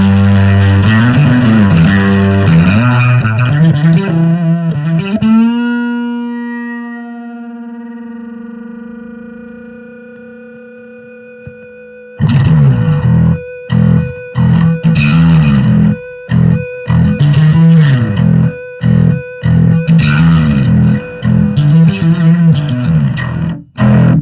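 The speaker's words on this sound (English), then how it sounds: "Other very interesting tool in my pedal board is the super feedback." Electric guitar played through a super feedback pedal: loud distorted chords swell into a long sustained feedback tone that slowly fades, then choppy, heavily distorted stabbed riffs with abrupt stops.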